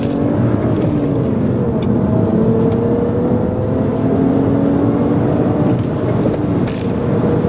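A stock BMW 335i with the N54 engine and six-speed manual drives along, its steady, smooth engine drone and road noise filling the cabin continuously and fairly loudly.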